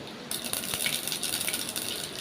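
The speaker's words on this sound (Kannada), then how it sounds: "ಸಾಸಿವೆ ಚೆನ್ನಾಗಿ ಸಿಡಿತಾ ಇದೆ ನೋಡಿ" Rapid crackling and popping of mustard seeds spluttering in hot oil, close and continuous with sharp irregular pops.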